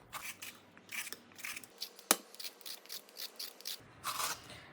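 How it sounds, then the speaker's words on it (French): A vegetable peeler strips the skin from a quince in short, close, scratchy strokes, a rapid series of faint rasping scrapes with one sharper click partway through, and no speech. "on prend un économe et on épluche"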